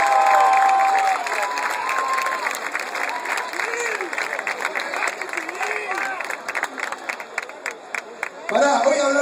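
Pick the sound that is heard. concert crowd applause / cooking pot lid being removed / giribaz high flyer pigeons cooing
concert crowd applause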